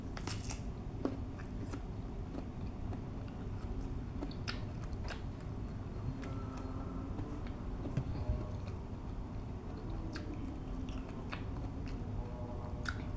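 Crunchy alamang, a Filipino shrimp paste, being chewed close to the mic, with a steady run of small crisp bites and crackles over a constant low background hum.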